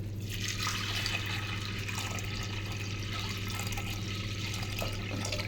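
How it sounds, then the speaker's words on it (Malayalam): Water poured into a pressure cooker holding beans, a steady continuous rush and trickle of liquid close by, running evenly for several seconds under a constant low hum. "ഇതിലേക്ക് ആവശ്യത്തിനുള്ള വെള്ളം ചേർത്ത് കൊടുക്കാം കേട്ടോ."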